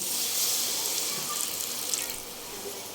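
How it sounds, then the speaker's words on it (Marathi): Water pours steadily into a pan of pav bhaji masala and vegetables, a continuous close splashing rush that stays fairly even throughout with no voices. "यात मी थोडं पाणी ॲड करून घेणार आहे"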